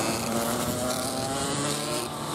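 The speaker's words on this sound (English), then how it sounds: "lots and lots of open performance karts making their way out onto the circuit" Open performance racing karts heading out onto the circuit at a kart club, their engines forming a continuous loud buzzing drone with overlapping whines from several machines.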